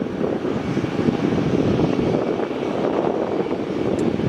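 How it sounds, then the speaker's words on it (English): Steady, broad jet roar from a China Southern Airbus A350-900 at Melbourne Airport, a continuous even rumble with wind noise across the microphone and no distinct changes. "we are set on the China Southern A350-900 off to Qantas"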